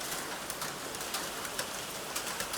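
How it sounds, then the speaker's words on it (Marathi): Heavy monsoon rain falls steadily outside a flooding house, a broad continuous hiss with scattered sharper drips, close and even, with no talk. "पाऊस परत वाढला आहे आणि परत पाणी भरायला सुरुवात झाली आहे"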